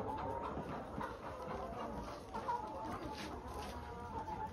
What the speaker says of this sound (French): Vous avez le coq Brahma et la poule Brahma, les deux.